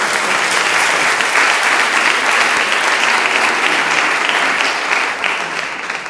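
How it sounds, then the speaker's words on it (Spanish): An audience at a biomedicine presentation session claps loudly and continuously, dense sustained applause that tapers slightly at the end. "Un aplauso."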